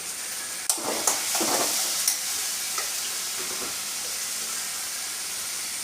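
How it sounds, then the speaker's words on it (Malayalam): Three green chilies hit hot oil for a homemade mango pickle, setting off a loud, steady sizzle with a few sharp scrapes and clinks of stirring near the start, close by with no talk. "പച്ചമുളക് ഇട്ട് കൊടുക്കാം."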